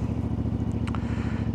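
A motorcycle engine revs at close range on a CF Moto 450, Honda Transalp or Ducati Desert X adventure bike, its steady throbbing pulse loud and continuous, with a brief metallic clatter near the middle and no talk.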